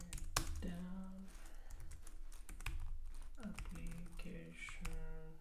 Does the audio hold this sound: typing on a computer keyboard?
yes